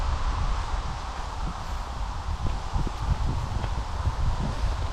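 Gusty wind blows outdoors on a grey day in Norway during a bicycle trip, a steady rushing roar buffeting the microphone with low rumbling gusts and no talking.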